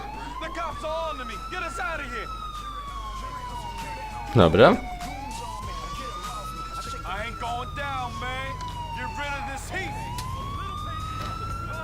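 Police sirens wail in the Grand Theft Auto IV video game, rising and falling steadily under game sounds while someone talks briefly over them.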